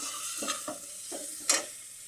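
Stirring salt, turmeric and chilli powder into a stuffed capsicum filling mixture in a pan, with a few soft scraping strokes and faint sizzling, one sharper scrape near the end, close and quiet with no talk.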